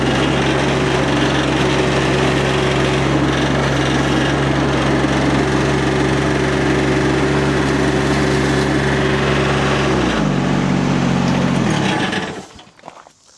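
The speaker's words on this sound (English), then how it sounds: "Did you notice that that Kubota engine didn't even bog a little bit?" A Kubota diesel engine powers a Rippa mini skid steer, droning loud and steady close by under load without bogging, then dropping in pitch and cutting off near the end.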